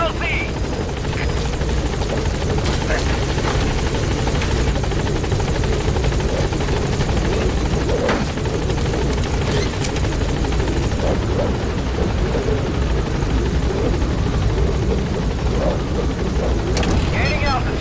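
The Pequod helicopter in Metal Gear Solid 5: The Phantom Pain holds steady, a loud, continuous rotor drone and turbine whine running throughout, with brief game voice radio chatter over it.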